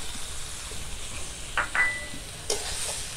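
Two medium tomatoes, finely chopped, hit frying spices in a pan for a Bengali Bhola fish masala curry, giving a steady moderate sizzle with a few sharper bursts of hissing and stirring.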